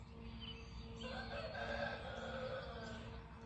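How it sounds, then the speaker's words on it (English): A rooster crows faintly in the distance outdoors at sunrise, a drawn-out, somewhat hoarse call rising and falling over a steady low background hum, with no talk. "Sounds like that rooster's beginning to get a horse in his throat"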